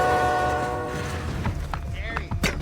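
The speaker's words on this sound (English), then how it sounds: "Stopping this monster train isn't an option." A heavy freight train of roughly 2,700 feet sounding its horn in a blizzard, with a sustained horn blast over a low rumble that fades into rattling, clanking rail noise, loud and near.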